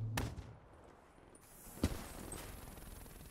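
Gunfire in Call of Duty Black Ops 3 online multiplayer: two sharp shots about a second and a half apart, moderately loud over a low game ambience.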